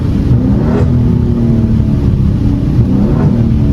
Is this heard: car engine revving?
yes